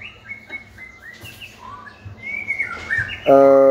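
Songbirds at a bird singing contest chirp and whistle in a quick series of clear, rising notes, ending in a loud, sustained whistled call close by.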